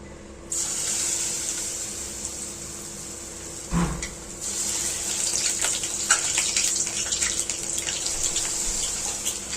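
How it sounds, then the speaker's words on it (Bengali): Bitter gourd leaf fritters go into hot oil, setting off a bright, steady frying hiss after a short quiet start, with a soft thump partway through as another fritter drops in. "তেলটা গরম হয়ে গেছে বন্ধুরা, এখন হচ্ছে বড়াগুলো ছেড়ে দেব"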